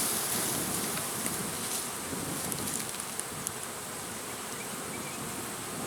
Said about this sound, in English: Prepare yourself for the probability of ticked off bees.